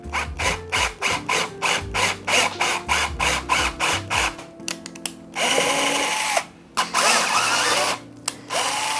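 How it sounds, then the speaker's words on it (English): A 3/16 drill bit bores holes in a Ghostbusters proton pack part in repeated short bursts, each whine rising and cutting off, followed by a longer continuous run of the drill near the end. "We're gonna drill the rest of these holes out"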